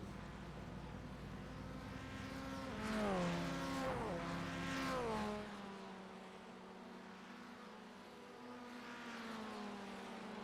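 Formula 1600 race cars lapping Virginia International Raceway in a racing video game roar past with a rising-then-falling engine whine, a loud close pass in the middle fading back to a steady distant hum.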